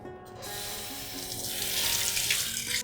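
Running tap water splashes steadily into a sink while lentils are rinsed, growing slightly louder and fuller, with faint clinking underneath.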